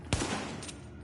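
A gun fires in a PS4 shooter game: one sharp, loud shot followed by a softer burst, quick and close.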